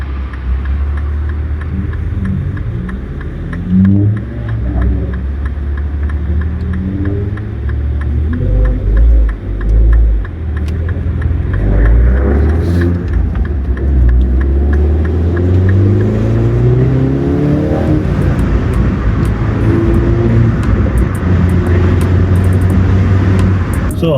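A car's engine drones steadily from inside the cabin while driving on the road, a loud continuous hum with the engine note rising and falling in several gradual sweeps as it speeds up and shifts.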